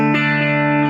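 An electric guitar plays through an amp with slapback delay and reverb, giving one sustained, bright, slightly distorted chord with a soft repeat just after the attack, loud and close.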